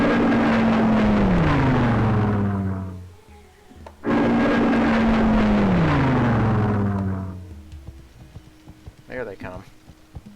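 Spitfire fighter planes in a Civilization III World War II game roar past twice, each loud engine drone sliding down in pitch as it passes, followed by quieter scattered clatter and a brief whirring burst.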